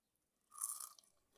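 A single crisp crunch comes from a bite into a crispy chili and onion bajji fritter. It is close and brief, with near silence around it.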